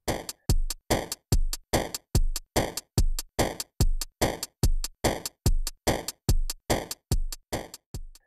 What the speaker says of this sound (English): We can add hi-hats on every 8th note